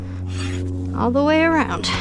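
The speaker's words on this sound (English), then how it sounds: "now I'm gonna smooth with the fine side of my rasp" The fine side of a hoof rasp smooths a horse's hoof that is being repaired for a quarter crack, making brief scraping strokes close by, partly under a voice speaking.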